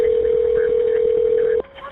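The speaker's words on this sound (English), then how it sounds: "allowing him to call 911" A telephone sounds one steady, loud, unbroken tone close up for about a second and a half, then cuts off abruptly, leaving a quiet background, as a call to 911 is placed.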